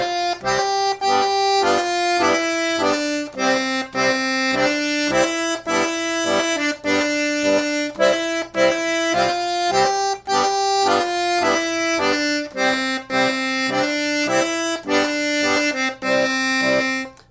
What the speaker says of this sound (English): Here's what it will sound like with that accompaniment and the melody at the same time.